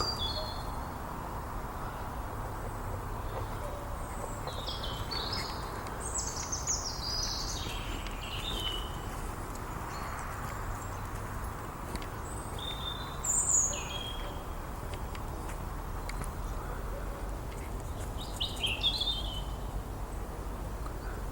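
Several birds chirp and whistle in short bursts over a quiet outdoor hum, some calls nearer and louder than others.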